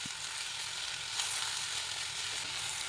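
Brinjal frying in oil with onion, green chillies and curry leaves, giving a steady, close, even sizzle with faint stirring and no speech.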